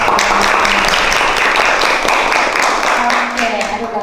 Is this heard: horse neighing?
no